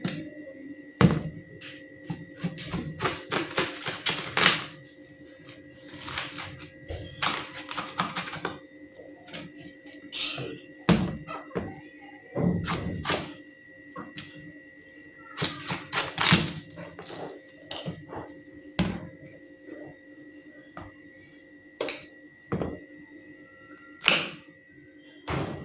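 A knife cuts through a ripe red watermelon on a cutting board, giving repeated crisp chops and dull thuds in irregular bursts with quieter gaps between strokes.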